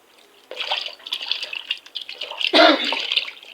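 Cut omo, an ingredient for Nigerian uha soup, being washed in water, with close sloshing and splashing that swells into a louder surge of running water partway through, no talking.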